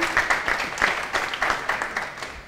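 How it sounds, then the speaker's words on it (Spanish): Applause from an audience at an architecture firm presentation in Barcelona, a steady wash of many hands clapping for about two and a half seconds, moderately loud with a faint voice beneath. "fuerte fuerte aplauso para Eduardo"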